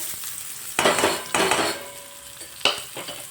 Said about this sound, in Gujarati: હવે ડુંગળીને આપણે ગોલ્ડન બ્રાઉન સુધી એને કૂક કરી લઈશ